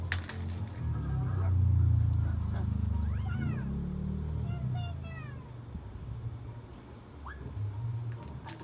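A pet cat meows several times, with rising and falling calls around the middle and a short one near the end, heard over a low rumble and a voice talking indoors.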